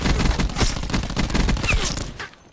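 Rapid bursts of gunfire from a multiplayer shooter video game, loud and dense throughout, overlapping shots with a brief tail fading near the end, no talk.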